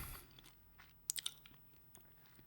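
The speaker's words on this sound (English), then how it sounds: "I'm chewing gum, by the way." Close, quiet chewing of gum in a still room, a handful of soft wet clicks and smacks bunched together, then a faint smack or two.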